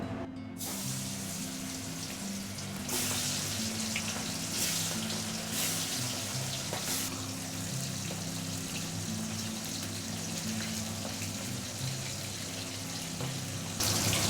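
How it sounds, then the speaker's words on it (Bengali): A continuous sizzling hiss of small chela fish frying in hot oil, steady throughout with no voices. "তেল গরম হয়ে গেছে, এবার মাছ দিয়ে দেবো।"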